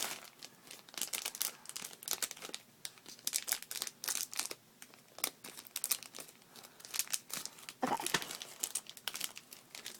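Scissors cutting out a paper or cardboard piece from a Moshi Monsters Yum Yum Kitchen play set: steady crisp snipping and crinkling of paper, close and continuous for about ten seconds, no talking.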